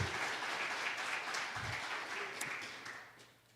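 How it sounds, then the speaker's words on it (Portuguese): Church congregation clapping and applauding for Jesus during a Portuguese-language sermon, a brief burst of applause that fades gradually over a few seconds. "Aplauda Jesus por isso."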